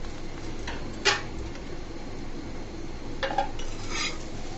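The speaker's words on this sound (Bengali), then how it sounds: "দেখো বন্ধুরা নাস্তাটাকে আমি উল্টিয়ে দিলাম।" A snack is flipped in a covered pan in a home kitchen, giving a sharp metallic clank of utensil on pan followed by a few lighter scrapes and clinks over a faint low background hiss.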